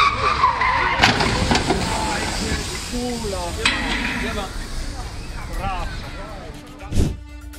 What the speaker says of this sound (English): During a brake test, the brakes failed, that resulting in the car crashing directly into the decorations positioned at the track's